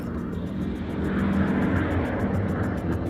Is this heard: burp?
no